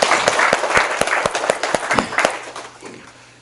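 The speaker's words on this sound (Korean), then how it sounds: "박수 한번 칠까요?" A lecture audience claps briefly, a burst of sharp hand claps that quickly thins out and fades within a few seconds.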